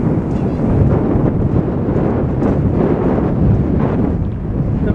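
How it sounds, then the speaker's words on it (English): Wind buffets the microphone on an open beach, a steady loud rumbling roar filling the whole stretch with gusty surges and no clear voices. "There is a bit of wind today, but not a lot."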